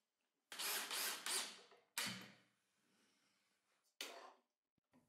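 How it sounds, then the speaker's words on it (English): A power driver sinks screws to fasten a workbench top to its wooden frame. There are three short, loud, close bursts of motor whine, each with a small follow-up sound, separated by quiet pauses. "I clamp down the top and screw it to the frame."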